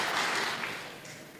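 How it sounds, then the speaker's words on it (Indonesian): Church congregation applauding during a sermon, a brief dense wash of clapping hands that fades slightly toward the end, fairly close and without speech. "Tepuk tangan."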